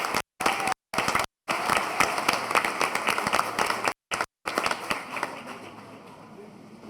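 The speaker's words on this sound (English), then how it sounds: "Let's give them and Wibbick a round of applause." Audience applause at an annual meeting, a dense wash of clapping filling the room for several seconds, broken by brief gaps and tapering off toward the end.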